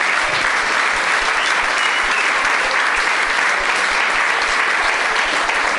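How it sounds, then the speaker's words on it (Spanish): Church congregation applauding loudly and continuously, a dense wash of many hands clapping without a break for several seconds. "Dele un fuerte aplauso al Señor si usted se goza."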